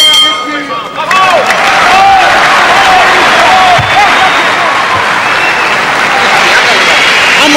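Boxing arena crowd near the end of round 4 of Arnulfo Castillo versus Julien Lorcy, a steady loud roar of cheering and applause with dense clapping and hubbub throughout.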